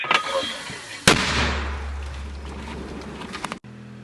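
In a war zone, a single sharp, loud gunshot cracks and booms, echoing away into steady background rumble, with faint voices around it.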